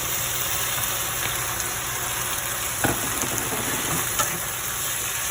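Beef sizzling in a hot pan as it is stir-fried for beef and broccoli, a steady close crackle with a few sharp spatters and stirring clicks over the continuous hiss.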